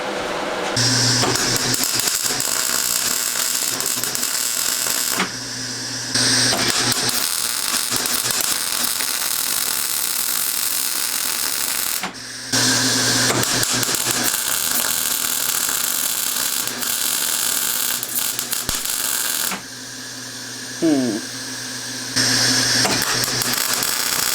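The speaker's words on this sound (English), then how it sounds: "I'm going to practice a couple of plug welds over here with the MIG welder" A MIG welder lays practice plug welds during rust repair on a Nissan Skyline R32 front clip, a steady loud crackling buzz in several long bursts with brief pauses between them.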